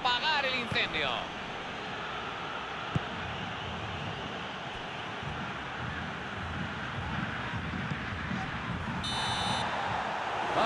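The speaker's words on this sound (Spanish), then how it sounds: "Aquí está el pitido final." A referee's final whistle at a Copa Sudamericana 2022 football match between Atlético-GO and Olimpia: a short, shrill blast near the end, sounding over a steady wash of stadium crowd noise.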